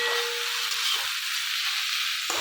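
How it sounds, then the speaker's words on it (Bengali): Chicken cooks in a pan with onion stalks, giving off a steady, even sizzle and hiss that runs continuously without pause, with a faint tone in the opening moment. "আজকে দেখো পেঁয়াজ গাছ দিয়ে চিকেন রান্না হচ্ছে"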